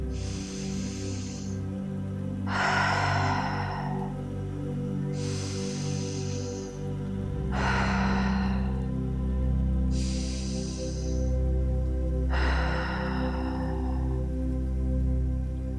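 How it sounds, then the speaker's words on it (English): Three slow, deep yoga breaths, each inhaled through the nose and exhaled through the mouth, making soft, close airy whooshes in an even rhythm over a low steady hum. "taking 3 final grounding breaths together, in through the nose and out through the mouth"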